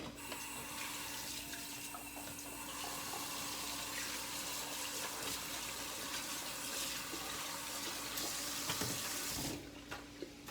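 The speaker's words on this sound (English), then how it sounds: "I like to get my hands in there. I'm going to wash them first." A kitchen tap runs steadily as hands are washed under the stream while cooking, a continuous close splashing rush that stops abruptly near the end.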